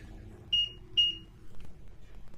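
Two short, clear continuity beeps from a multimeter probing an Acer Nitro 5 laptop graphics board with a no-power fault, sounding close and distinct over faint background noise.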